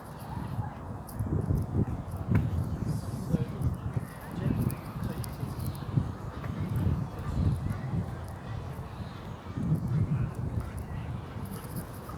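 Ducks honk and quack in repeated bursts at moderate distance, amid outdoor ambience with faint voices, in central London near Buckingham Palace.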